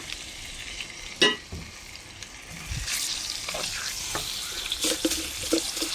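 Onions and chili frying in hot oil for a prawn curry with potato and okra, a steady close sizzle broken by a few sharp scraping stirs of the spatula.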